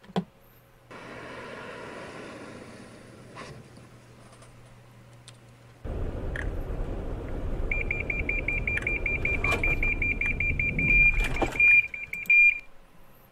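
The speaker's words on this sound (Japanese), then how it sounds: "時速50キロでどういうふうにブレーキがかかるのかっていうところをちょっと見ていただこうかなと思います" A Toyota Alphard braking automatically from 50 km/h toward a car ahead: steady road and engine noise, then a louder rumble as it slows, with a repeating electronic warning beep sounding over it before the car stops.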